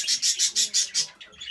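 Budgerigar parakeets, a paired pair kept in a breeding cage, give a rapid run of six bright, evenly spaced chirps, close and fairly loud, followed by a softer, ragged twitter.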